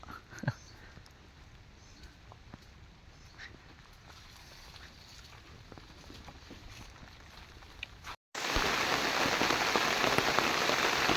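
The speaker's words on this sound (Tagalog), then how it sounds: "Malalaki po ang patak ng ulan." Heavy tropical rain with big drops pattering on banana leaves at a cassava planting site, a steady close downpour that briefly cuts out and then returns much louder and denser.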